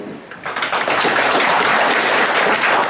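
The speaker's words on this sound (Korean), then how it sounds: "김시원 아재도 저 한 박수 한번 쳐주고" Applause breaks out at a family clan gathering: dense, steady clapping from many hands starts abruptly and continues loud and close for a few seconds.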